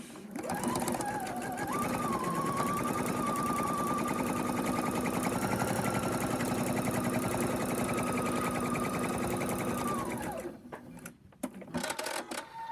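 A sewing machine runs steadily, sewing a folded felt piece down its side for a small fabric pumpkin; the loud, even whirring runs about ten seconds before stopping, followed by faint handling noises.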